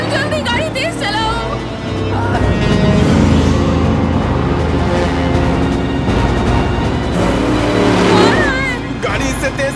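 Car engine revving and straining during a tense chase, a loud, rising motor roar with tire noise beneath frantic, overlapping shouting voices.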